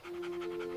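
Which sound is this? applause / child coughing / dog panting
dog panting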